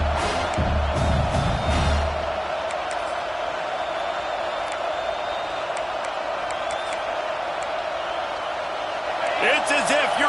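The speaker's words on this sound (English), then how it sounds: "how nice is it to have the home crowd going absolutely bananas?" Home crowd roaring at Williams-Brice Stadium in the College Football 26 video game during South Carolina vs Miami, a sustained loud cheer with a voice talking over it early on.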